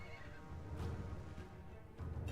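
A hellsteed, the flying nightmare horse ridden by a Vampire Lord in Total War: Warhammer III, lets out loud neighs and whinnies over game ambience, with a second burst at the end.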